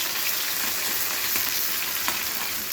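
Chopped onion fries in hot oil with mustard seeds and fennel in a pan, making a steady close sizzle with faint crackles and occasional stirring sounds, no voices.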